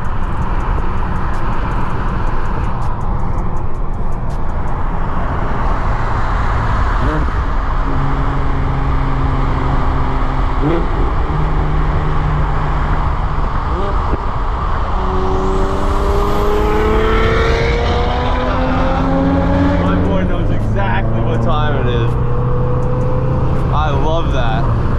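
Several BMWs, including an M3, driving together on the road to a Maple Grove Raceway event, engines droning steadily and rising in pitch as cars accelerate alongside, with people talking over the continuous traffic noise.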